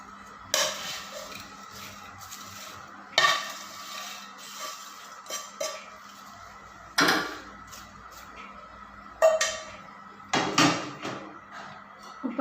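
Masala french fries dished out onto a plate, with a series of sharp clinks and scrapes of a utensil against the pan and dish every few seconds, close up, with no talk.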